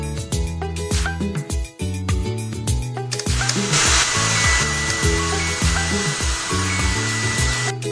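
A hair dryer in the Jungle Animal Hair Salon 2 game blows on a bear's fur: a steady, loud whooshing rush starts partway through and continues over bouncy background music to the end.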